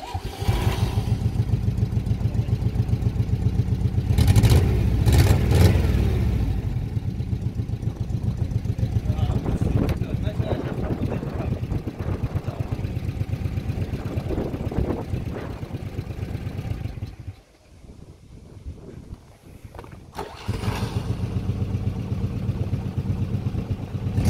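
An old Zaporozhets car engine is cranked and started, running as a steady, loud mid-pitched idle with a brief rev, a short drop to near quiet, then the idle resumes; voices talk over it in places.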